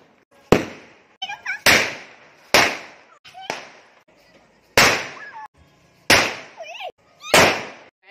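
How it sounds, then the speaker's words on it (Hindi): Firecrackers burst at a home during Dhanteras: about seven sharp, loud bangs at irregular intervals a second or so apart, with faint high squealing and chirping sounds between some blasts. "हमने भी बहुत सारे फटाका फोड़ लिए।"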